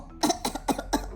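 A voice performs four short coughs in a children's story about handwashing. The throaty bursts are close and evenly spaced over about a second, with no other sound.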